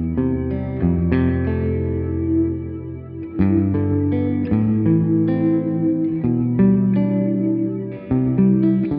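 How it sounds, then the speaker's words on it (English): Sustained guitar chords drenched in huge reverb with a slow, sweeping flanger swirl, ringing continuously at steady volume through an Infinite Sample Sustainer pedal. "huge reverb and exaggerated slow flanger"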